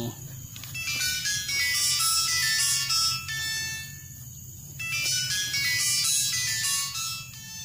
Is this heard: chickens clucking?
no